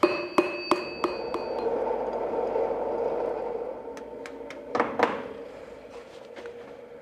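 Hammer blows ring on hot iron while a shepherd's crook is forged. A quick series of sharp metallic strikes comes at the start, then after a sustained hiss and roar from the forge, a few more clanging blows follow close up.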